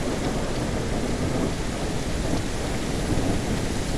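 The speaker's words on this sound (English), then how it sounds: "It's raining still." Steady heavy rain and rumbling thunder in the ranch-building video game Ranch Simulator form a dense, continuous wash of noise, loud and unbroken, with no voices.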